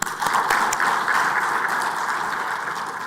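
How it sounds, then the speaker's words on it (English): An audience at the official launch event of a cybersecurity community for Africa gives steady applause: dense, moderately loud clapping from many people that holds even throughout, with no talk. "Another round of applause, please."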